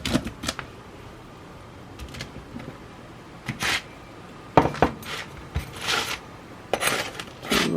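A knife cuts through a thin-crust spicy sausage and tomato pizza fresh from an air fryer oven, giving short crunchy scrapes and taps in irregular bursts close by with quiet pauses between them.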